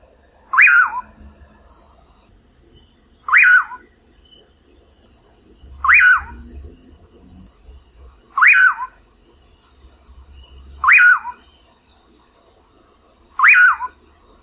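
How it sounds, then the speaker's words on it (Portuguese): A common pauraque calls six times, each a loud, clear, rising-then-falling whistled note, spaced evenly about two and a half seconds apart against a quiet background. "Curiango, Nyctidromus albicollis."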